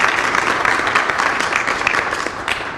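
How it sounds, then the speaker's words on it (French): Audience at a book dedication ceremony in Senegal applauding an honoured guest, loud, close, sustained clapping with scattered sharp individual claps. "je voudrais que vous applaudissiez tous"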